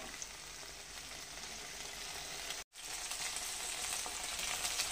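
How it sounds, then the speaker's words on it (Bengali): Okra masala sizzles steadily in hot oil in an uncovered pan over a high gas flame, a continuous close frying hiss broken by one brief silent dropout midway. "এবার ঢাকনা খুলেই লাল লাল করে একটু ভেজে নেব।"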